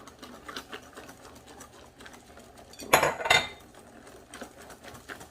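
Bread pudding mixture of bread, butter and liquid stirred in a bowl, a soft repetitive stirring with a brief louder burst of clattering in the middle.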